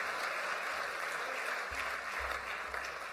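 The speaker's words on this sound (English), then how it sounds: "A huge round of applause to Helen and Fiona from the EAUC." Sustained applause from an awards-ceremony crowd inside Brunel's Old Station in Bristol, a steady even wash of clapping heard somewhat distant, with a few low thumps underneath.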